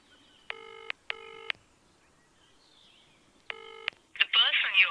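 Telephone ringing out on an unanswered outgoing call, three evenly spaced ring tones, each about half a second long, near and clear, followed by a brief burst of voice at the end.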